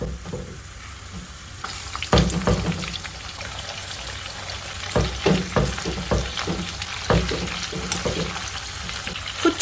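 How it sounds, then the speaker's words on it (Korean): Shrimp fry in hot garlic oil for gambas al ajillo, a close, continuous sizzle with bursts of crackle and louder scraping as the pan is stirred. "마늘이 익었을 때 새우를 넣어줍니다"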